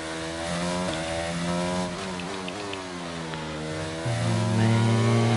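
Formula 1 car engine in F1 22, a high, steady whine that rises and falls through gear changes, then swells louder and holds near the end, heard on its own.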